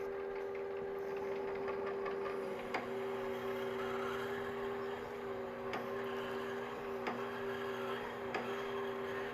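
A metal lathe spinning at 300 RPM dry-cuts a leaded brass bar, giving a steady whirring machine drone with a constant tone and a few faint clicks, close and continuous.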